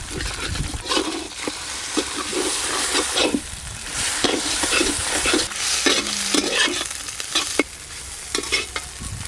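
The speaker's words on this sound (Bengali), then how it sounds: "ডিমগুলো ভালো করে ভেজে নিয়েছি" Beaten eggs with salt fry and scramble in a pan for an egg rice dish, a steady close sizzle broken by repeated scraping and stirring strokes of a utensil, with no voices.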